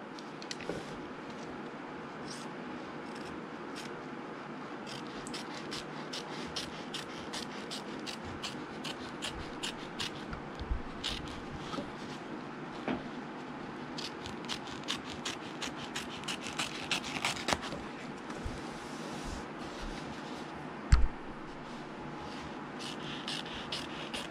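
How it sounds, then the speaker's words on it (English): Close trimming of fabric around an embroidery block, with steady soft rubbing and snipping of scissors through cloth. A run of small crisp clicks sits over quiet, low background hum, and there is no talk. "So this needs to be trimmed very closely."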